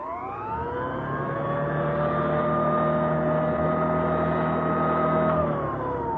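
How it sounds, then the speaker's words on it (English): An old-style vacuum sweeper left running in one spot without being pushed, a radio drama effect: a constant, even motor drone with a steady tonal whine that holds level throughout, dipping slightly near the end, with no voices. "If the machine is standing in one place, if it is not being used,"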